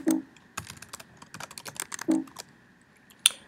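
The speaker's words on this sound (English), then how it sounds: "now we're going to type in play" Typing a command on a computer keyboard, a quick close run of crisp key clicks with a couple of heavier strokes, alone and fairly loud.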